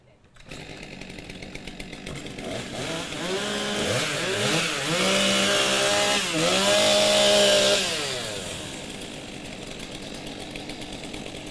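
STIHL chainsaws rev and warm up at the 2023 New Zealand timbersports championships, a loud sustained engine roar with rising and falling throttle sweeps that swell in the middle and settle back to a steady idle-like drone.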